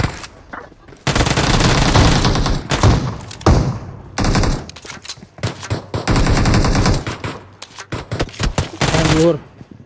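Rapid bursts of pistol gunfire in PUBG Mobile crack out in loud clusters, separated by short pauses, with a voice briefly heard between shots.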